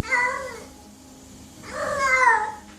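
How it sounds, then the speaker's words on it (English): A cat caterwauling: two loud, drawn-out wavering wails separated by a brief pause, close and clear with nothing else around them. "The fourth sound is the caterwaul."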